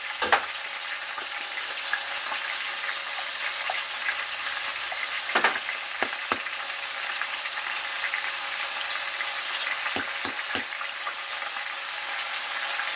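Ground meat for a meat sauce fries in a pan with a loud, continuous sizzle, while a utensil breaks it up with a handful of sharp scrapes and taps against the pan.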